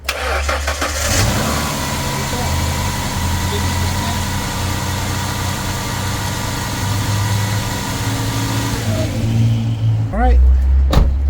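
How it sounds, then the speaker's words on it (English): A car engine cranks and catches near a battery charger and tester, then settles into a loud, steady idle with a low hum before a final rev. "we're gonna turn on the car"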